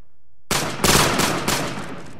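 Rifles crack outdoors at a military squad competition, where a sharp volley breaks out of silence and several rapid reports follow close together.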